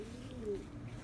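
King pigeons giving a low, soft rolling coo, one drawn-out call held close by over a faint background hum.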